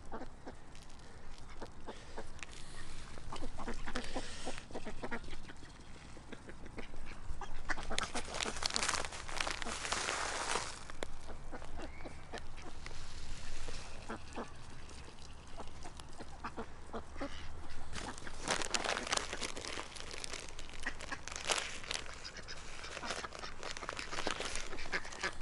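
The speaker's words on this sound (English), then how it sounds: "Here's the screedy white duck." A white duck quacks in raspy, insistent bursts, some loud and close, others scattered among outdoor background noise, repeating irregularly throughout.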